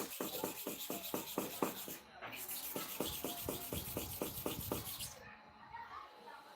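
A clipper blade is rubbed back and forth across a sharpening stone in quick, even gritty strokes, near and distinct. The strokes run in two rhythmic bursts separated by a short pause.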